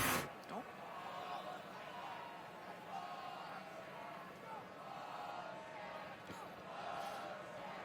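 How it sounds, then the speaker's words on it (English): A displeased football stadium crowd at a UCLA–Washington State college game, a steady loud roar of many voices with swelling murmurs and scattered shouts throughout. "Crowd clearly not happy"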